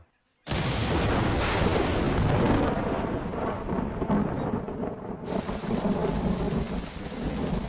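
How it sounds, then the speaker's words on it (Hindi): Heavy rain pours steadily as a loud rumble of thunder rolls through, the downpour hissing densely and close for the whole stretch. "मूसलाधार बारिश ने सब कुछ भिगो दिया।"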